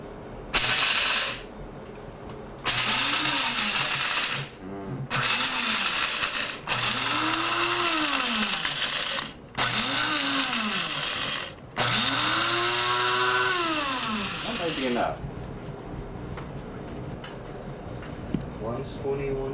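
An electric coffee grinder chews through beans in about five loud stop-start bursts of roughly two seconds each, its whine climbing and falling within each burst, then a quieter room with faint noises.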